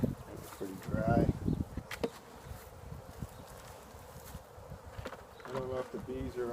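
A steady buzzing of many honeybees at a hive during a late-winter inspection fills the background, with a few louder passes close by and brief rustling.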